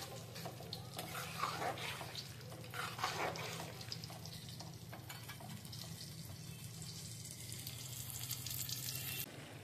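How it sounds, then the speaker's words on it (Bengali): Potatoes frying in a pan for aloo posto, a steady soft sizzle running throughout with faint clinks and a low background hum, no talking. "এই যে আলু পোস্তর জন্য আলু ভাজা চলছে।"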